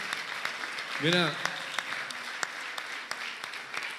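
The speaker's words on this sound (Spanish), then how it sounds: "otro aplauso más fuerte a esos niños" An audience applauds for children, a steady, fairly soft wash of clapping throughout, with a brief spoken word over it.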